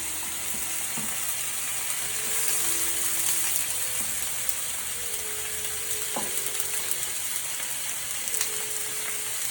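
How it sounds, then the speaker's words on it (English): Green beans sear in a smoking hot pan, giving a steady, loud broadband sizzle that carries on without pause, with faint clinks and small shifts in the frying hiss. "those are searing up"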